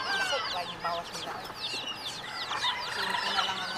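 Many chickens cluck and chatter at once while being fed in Kauai, Hawaii, a dense, busy chorus of short calls from a flock nearby, continuous throughout.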